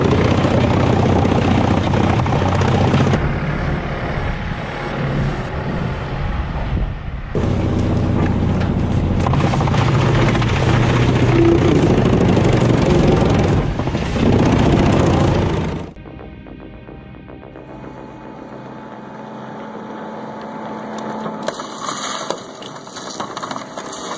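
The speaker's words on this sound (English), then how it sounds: "Brooks 106 is a machine from Sweden that cuts wood into even chips." A Swedish Bruks 106 wood chipper grinds wood into even chips with a loud, dense, roaring churn that cuts out abruptly. A quieter mechanical hum and clanking follow.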